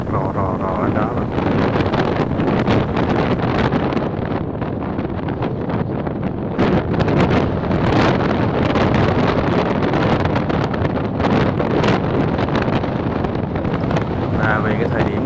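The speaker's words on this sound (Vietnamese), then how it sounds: "nhưng mà gió nó rất là ồn, nó tạt rò lên đó rồi" Strong wind blasts across white sand dunes, a loud, continuous roaring buffet on the microphone that hardly lets up, with gusts swelling and dipping throughout.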